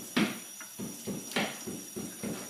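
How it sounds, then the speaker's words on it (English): Knocking in a quiet room at night, a series of muffled knocks in uneven pairs and singles, moderately close, with no talk. "Where is that knocking coming from?"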